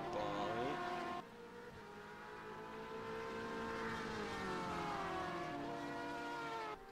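Race car engines in the sim racing game rFactor 2 at Sebring, a loud sustained whine with revs rising and falling through gear shifts and a couple of quick downshifts, under a commentator's voice.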